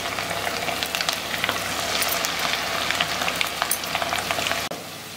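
Mushroom and cabbage pakora frying in hot oil, a dense, loud continuous crackling sizzle close up that drops slightly near the end, with no talking.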